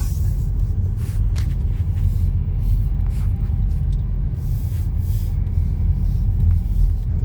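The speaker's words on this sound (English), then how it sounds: "Here we are driving deeper and deeper into the woods, going to the spot." A car drives along a woodland track several miles in, making a steady low engine rumble with road noise, and faint creaks and rattles come from the body over uneven ground.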